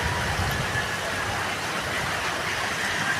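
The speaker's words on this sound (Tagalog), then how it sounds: "Umuulan at bumabaha na naman po." Steady, dense rain and rushing floodwater from an overflowing river in Pandan, Antique make a continuous loud wash with no breaks.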